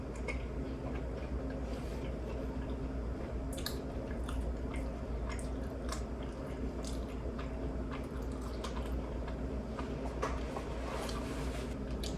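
Soft, wet chewing of cheesy Little Caesars crazy bread, buttery and oily, runs close to the mic with small squishy bites and no talking.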